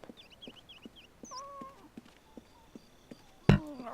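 A cartoonish cat meows several times in quick succession in The Sims video game, followed by other game tones and a sudden louder clatter near the end, with no talking.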